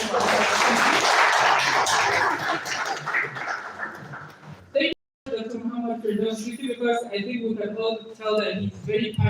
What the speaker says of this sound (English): Please, another round of applause for Dr. Bello.